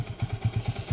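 A motorcycle engine on a slippery, damaged road, low rhythmic chugging pulses several times a second, close and steady.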